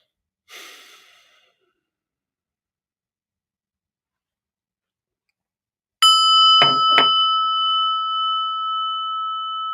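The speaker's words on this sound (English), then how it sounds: "let's get a little breath" A deep breath is drawn in and let out at the start of a meditation, one soft inhale-exhale near the mic, followed after a long silence by a bright ringing chime that sustains to the end.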